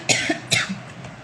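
A person coughs twice in quick succession, close and fairly loud, followed by a softer throat sound in a quiet room.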